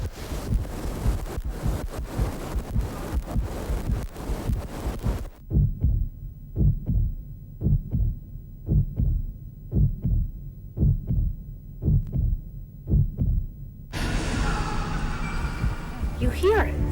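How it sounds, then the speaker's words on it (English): A slow, steady heartbeat thumps in a regular rhythm of low pulses during a paranormal investigation of a house, loud and close, framed by noisy rumbling at the start and the end. "You hear it. You hear a heartbeat."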